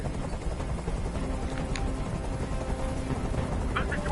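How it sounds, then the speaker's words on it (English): A helicopter hovering overhead in the Detroit: Become Human video game, a continuous rotor thrum and whir at moderate level with a few faint higher blips layered on top. "Tell that helicopter to get out of here."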